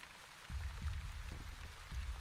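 Rain in the colony-builder video game The Wandering Village, a soft, steady patter of drops with low rumbling thumps recurring underneath, quiet and without voices.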